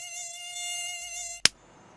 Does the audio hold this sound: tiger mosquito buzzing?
yes